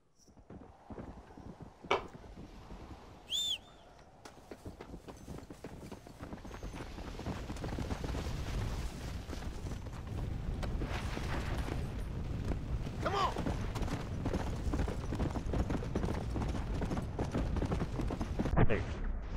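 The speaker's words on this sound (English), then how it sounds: "Easy there, horse." In Red Dead Redemption: Undead Nightmare, a horse's hooves clip-clop in a steady, continuous rhythm, with a brief whinny near the start. The hoofbeats stay close and grow busier over a bed of game ambience.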